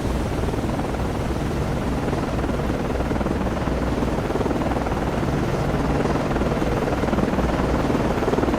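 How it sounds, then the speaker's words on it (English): A helicopter landing on the USS Valley Forge cruiser in the naval game Cold Waters makes a steady, dense rotor and engine drone, continuous and fairly loud with no voices. "Con, FLYCO, aircraft landing."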